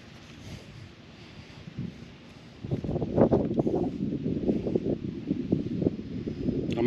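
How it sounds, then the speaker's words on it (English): Wind blows outdoors by the water on a fall day in Michigan, with a soft rush at first that swells into louder, gusty buffeting against the microphone in the second half. "Kind of windy out today"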